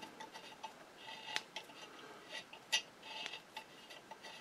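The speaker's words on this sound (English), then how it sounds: "So we're just going to thread that hole." A hand tap cutting threads into the spool pin hole of a Singer 66-1 sewing machine, producing faint irregular ticks and small metallic clicks in a quiet room.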